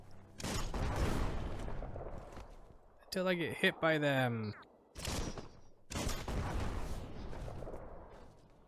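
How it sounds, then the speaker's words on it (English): Bursts of game explosions and crashing blasts alternate with a person talking, with a short musical or tonal effect in the middle. "we blew up the one barrel, which launched the other one, and it blew up in air"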